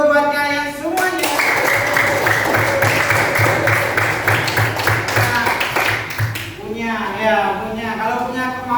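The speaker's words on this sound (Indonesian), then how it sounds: "Tepuk tangan dulu buat kalian semuanya." A classroom of vocational high school students claps for student groups, a dense burst of hand clapping lasting several seconds with voices before and after it.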